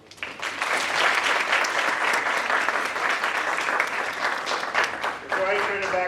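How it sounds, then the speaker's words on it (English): Audience at a Phi Theta Kappa induction ceremony breaking into loud sustained applause that swells quickly and continues steadily, with a voice speaking over the clapping near the end. "So give yourselves one last round of applause."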